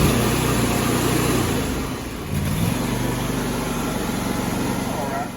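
Kohler engine on a Grasshopper 227 mower with a throttle that won't stay down, running steadily up close with a brief dip in speed before settling back to a constant drone.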